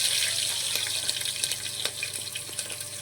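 Crushed garlic and green chilies with cumin sizzle in hot oil, a steady bright crackling hiss with small pops, close and alone.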